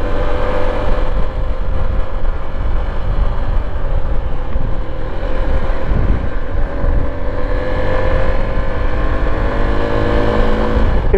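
Suzuki V-Strom SX 250 motorcycle pulling steadily through its gears, a continuous loud engine drone with rising and falling pitch and a brief lull near the middle, wind noise underneath, no talking.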